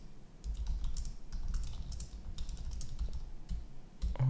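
Quick, irregular keystrokes patter on a computer keyboard in soft bursts of clicks, close and fairly quiet, with no one talking.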